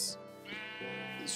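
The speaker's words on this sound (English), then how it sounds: "sheep." A Minecraft sheep bleats twice in quick succession, each call nasal and wavering, close and clear, with nothing else much around it.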